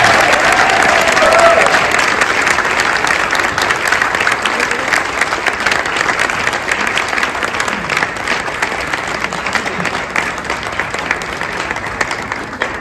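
Loud, prolonged applause from a school board meeting audience honoring a district Teacher of the Year, a thick continuous clatter of clapping that slowly eases over its length, with some voices mixed in.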